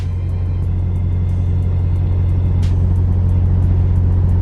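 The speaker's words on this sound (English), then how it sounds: "Hopefully my trailer and my truck not too loud." A truck engine idles or runs steadily nearby, a loud, constant low rumble with a faint regular ticking pulse throughout and no speech.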